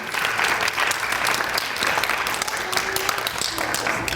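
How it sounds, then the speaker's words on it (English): Parents and guests applaud a child at a kindergarten graduation, continuous even clapping filling the room, with faint voices in the background. "Let's give Leo a big round of applause."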